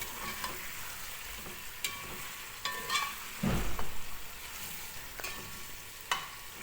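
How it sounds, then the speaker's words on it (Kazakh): Onions fry and brown in a pan for chicken pilaf, a steady sizzle running throughout, broken by scrapes and clacks of stirring, one louder knock in the middle. "Осы жерде үшінші құпиясы бұл пиязды да қызартып қуырып аламыз."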